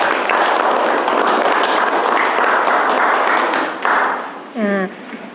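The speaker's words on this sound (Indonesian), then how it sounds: "Kita beri tepuk tangan untuk Yogi." A class of schoolchildren applauds Yogi, a dense, loud burst of clapping in a classroom that ends with a short vocal sound.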